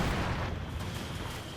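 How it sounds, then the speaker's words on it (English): Mortar rounds land in a World War II battle in the game Company of Heroes 2, making a dense, continuous roar of rumbling blasts that stays loud throughout with no clear gaps between impacts. "Mortar rounds landing close to the rifleman."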